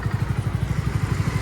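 A Hero Splendor motorcycle running low on petrol, its small single-cylinder engine thumping in a steady, even rhythm, loud and close, with no talk.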